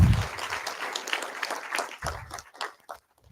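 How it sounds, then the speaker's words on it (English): Audience at a React Norway 2024 conference talk briefly applauds, a short burst of clapping that starts loud and fades out over a few seconds with a few scattered claps at the end. "A clap for Dominika."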